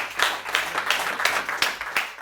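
A poetry gathering's audience welcomes a poet with steady, dense applause, many hands clapping together at a fairly loud, even level with periodic rhythmic surges.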